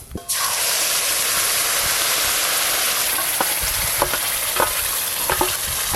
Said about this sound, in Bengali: এবার গোটা গরম মশলা ফোড়ন করে নেব।